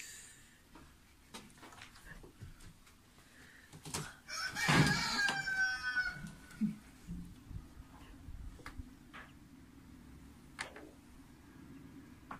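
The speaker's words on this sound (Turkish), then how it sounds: "Bu arada şu horozun sesi şu taraftan geliyor." A rooster crows once from a friend's balcony surroundings with chickens and turkeys nearby, a loud, drawn-out call rising mid-clip over faint outdoor background ticks and rustles.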